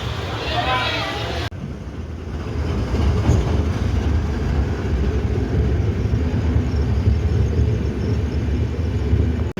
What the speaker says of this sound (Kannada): ನೆಕ್ಸ್ಟ್ ಯಾವ ಟ್ರೈನ್ ಬರುತ್ತೋ ನೋಡೋಣ